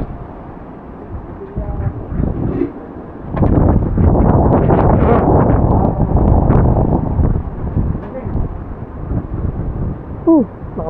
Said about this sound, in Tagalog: Lakas sa hangin. Naririnig nyo yung hangin na yan?